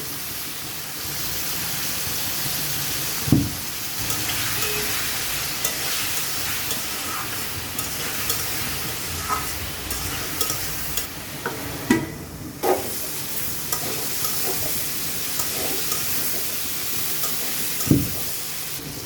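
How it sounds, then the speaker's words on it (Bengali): Vegetables frying with turmeric and chili for a tengra fish curry: a continuous loud hiss of sizzling oil with occasional sharp stirring knocks scattered throughout. "সবজিগুলো হলুদ মরিচ দিয়ে ভালো করে ভেজে নিছি"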